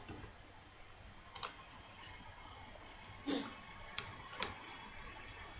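A computer mouse clicks several times at irregular intervals while browsing a German news site, each click short and sharp over a faint steady background hiss.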